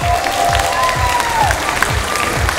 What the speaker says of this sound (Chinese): 佢哋真系好犀利啊，系咪？ 掌声唔该。